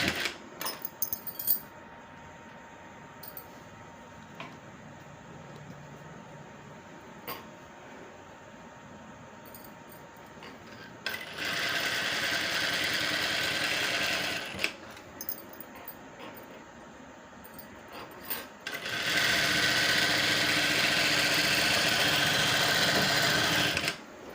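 A sewing machine stitches invisible piping along fabric in two steady, loud bursts of running, separated by quieter pauses with faint handling noises and no talking.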